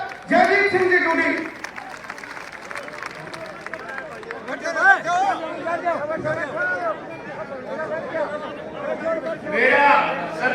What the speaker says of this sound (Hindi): जोरदार तालियों के साथ जयदीप सिंह जी ढूंढी।